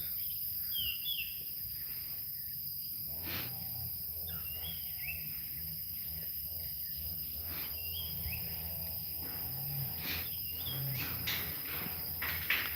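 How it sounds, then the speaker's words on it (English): Insects chirping and buzzing in quiet forest surroundings at a Cat Tien bear sanctuary, a steady faint background drone with occasional bird calls and light rustles. "bugs that you might hear in the background."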